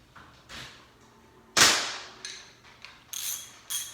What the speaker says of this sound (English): Then what happens when you spin this in, it's going to pull the damper off.